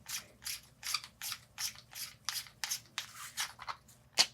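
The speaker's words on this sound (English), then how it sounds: "And then take the cap, unscrew it." A cap is unscrewed from an external bicycle dropper post, giving a run of about ten quick, close, gritty rasping turns in a steady rhythm, each a short scratchy burst of thread friction, with no talking.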